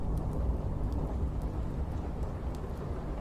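Steady rain falls with a low, continuous rumble of thunder underneath, soft and even throughout, with no voices.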